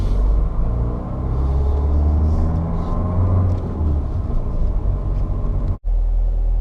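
A manual car's engine revs steadily as it pulls away from the biting point on a steep hill, a loud continuous rumble and drone close by that holds for several seconds before briefly cutting out near the end.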